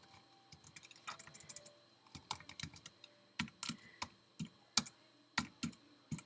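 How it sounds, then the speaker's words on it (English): Brisk, irregular typing on a computer keyboard, close and fairly quiet, with sharp individual key clicks and short bursts separated by brief pauses, and no talk. "I'm just gonna type in these."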